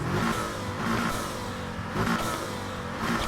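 A V8 car engine in the video game Need for Speed Heat revs and rumbles in waves, rising and falling with a deep throaty growl, loud and continuous with no speech.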